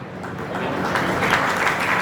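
Applause breaks out from an audience at a Rana Samaj appreciation ceremony in Valsad, a steady patter of clapping from a modest crowd that swells slightly over two seconds, with no voices.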